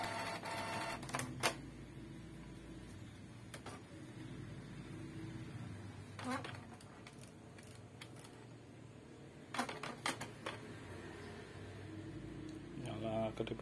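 A Canon 2770 printer, just repaired for error 6000, is switched on for a test and gives faint, intermittent mechanical whirs and clicks in a few short bursts over a quiet room hum.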